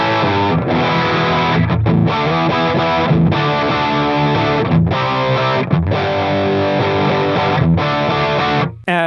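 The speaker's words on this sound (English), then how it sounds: "This is my go-to mid-crunch rhythm tone." An electric guitar through a Line 6 HX Stomp plays a mid-gain crunch rhythm part with a ping-pong delay, chugging chords loud and close in choppy bursts broken by short gaps, stopping abruptly at the end.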